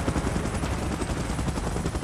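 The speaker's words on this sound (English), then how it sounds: "Chopper in position." Helicopter in the PUBG Mobile Last Stand mode, a loud, steady broadband rotor roar with a dense rapid thumping texture that holds without pause throughout, no voices present.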